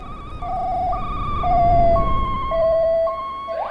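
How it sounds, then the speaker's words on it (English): Polish emergency vehicle siren in the video game Accident, a loud two-tone wail alternating between pitches in steady steps, close and clear with faint rumble beneath. "that's probably a Polish siren, I would guess anyways"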